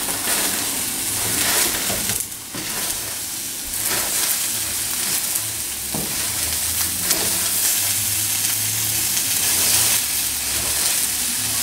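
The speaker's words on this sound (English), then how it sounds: "cook it a little bit till your onions get to where they're falling apart" Onions and leeks sautéing in a pan for shrimp risotto, a steady loud sizzling hiss throughout with occasional stirring scrapes, close up and with no talk.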